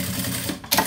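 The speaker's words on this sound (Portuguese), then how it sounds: "Jogo aqui os dois pro mesmo lado e passo aqui uma costura rebatendo." Sewing machine running a topstitch seam on a thermal bag, a brief steady mechanical whir that ends in a sharper burst of stitching, close by and with no voice.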